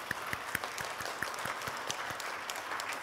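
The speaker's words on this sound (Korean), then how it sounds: "한나를 위해서 박수 한번 쳐줄까요?" Church congregation clapping at a Sunday service, a steady, moderately distant round of applause with sharp individual claps standing out and no speech over it.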